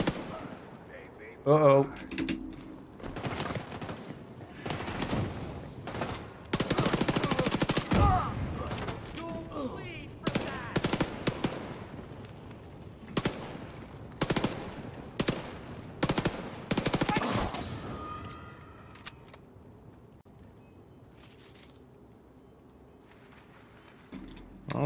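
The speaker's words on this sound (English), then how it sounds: "Alright, it's time for the SMG, I think." Submachine gun fire in The Division 2, loud bursts and tapped single shots repeating through most of the span, with brief pauses and a voice exclaiming once near the start.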